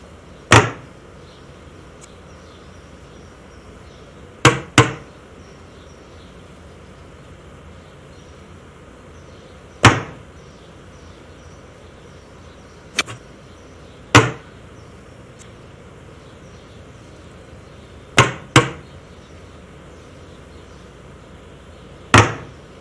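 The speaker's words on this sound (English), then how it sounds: "Hammer the pieces together." A hammer drives galvanized nails into a wooden header, with sharp isolated strikes, some in quick pairs, spaced several seconds apart over a quiet background.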